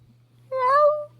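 A man imitates a cat with a single short, rising-then-falling meow, clear and close, over a faint steady hum.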